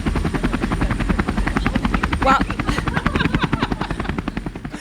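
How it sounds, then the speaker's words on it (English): A helicopter landing, its rotor chopping in a steady, loud, close pulse throughout, with a brief voice heard under the noise. "his helicopter's just landing."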